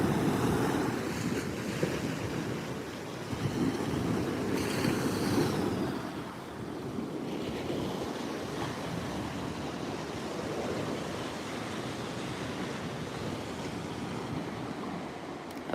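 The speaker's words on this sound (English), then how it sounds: "Oh, you can even see the breaking waves now." Ocean surf breaking on a Maui shoreline at first light near Hana, a steady broad wash of waves with gusts of wind buffeting the microphone, swelling slightly louder in the first seconds and then holding an even roar.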